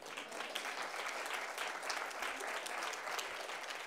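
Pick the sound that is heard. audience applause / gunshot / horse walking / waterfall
audience applause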